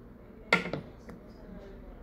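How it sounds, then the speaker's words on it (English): A spoon stirs a bubbling pot on the stove, giving two quick metallic clinks against the pot in close succession before the quiet simmer returns. "Okay, time to stir"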